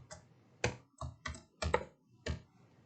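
Someone types on a computer keyboard, producing about six crisp, close keystrokes in an uneven rhythm, with short quiet gaps between the taps.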